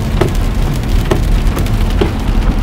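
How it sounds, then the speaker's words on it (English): Rain falling on a car driving slowly through an Indiana winter storm, a dense steady patter of drops on the body and glass with a few sharper taps, no talking. "it has started raining"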